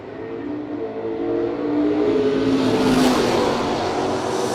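Dodge Dart Sport drag car on a drag strip at a no-delay race event, a steady loud engine roar building and holding close by, with no talk.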